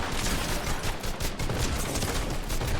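Dense, continuous gunfire in Fortnite, a steady roar of shots and impacts filling the whole stretch, loud and close with no speech over it.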